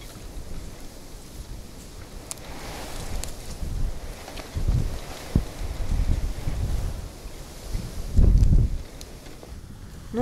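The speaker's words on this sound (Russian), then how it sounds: "сегодня у нас восточный он, но все равно это очень сильный ветер" Strong wind roars and buffets the microphone in irregular gusts, with deep rumbling surges growing louder toward the end; no voices.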